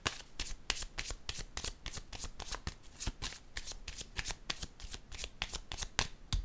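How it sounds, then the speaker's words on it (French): Playing cards are shuffled and handled close up in a rapid, steady run of crisp riffling snaps and flutters that continues throughout, with no voice over them. "Je vais déposer une carte ici."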